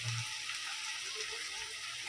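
Sliced onion and three slit green chillies fry lightly in a pan, a soft continuous sizzle with a brief clatter at the very end.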